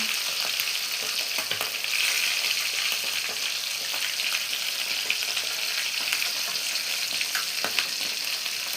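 Mackerel frying in hot oil in a Thai home kitchen, a steady, dense sizzle and crackle running throughout at close range, with occasional faint clinks and spatters and no talking.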